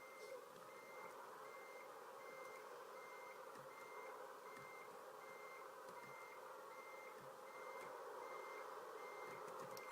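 Reversing beeps from a Volvo FH16 truck in Euro Truck Simulator 2, a steady, evenly spaced electronic beep repeating throughout over a low engine hum, heard alone without talk.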